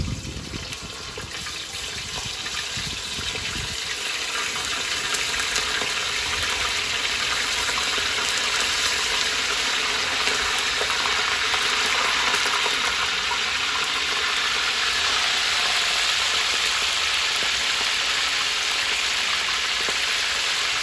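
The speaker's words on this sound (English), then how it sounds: "meanwhile, our oil is hot, so I'm gonna gently put our crab in." Crab lowered into hot frying oil sets off a loud, sustained bubbling sizzle that swells after the first couple of seconds and then holds steady and close.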